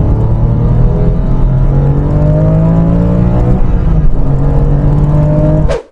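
Porsche 911 996 GT3 Phase 2 engine driving hard, a loud, close, steady howl with climbing and shifting harmonics that briefly dips mid-pull, then cuts off abruptly at the end.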